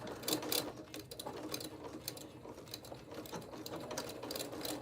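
A sewing machine stitches thick fabric for a stuffed snowman craft, its needle running in a fast, continuous mechanical chatter with a few louder bursts, steady and close with no talking.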